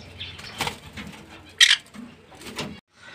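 Pet budgerigars and conures in a home aviary give short chirps and calls, with one sharp shrill squawk in the middle and a soft flutter of wings; no talking.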